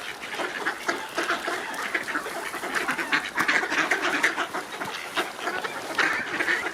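Ducks quack steadily among calm swans gathered on the water for food, a busy, fairly close chorus of overlapping calls with no speech.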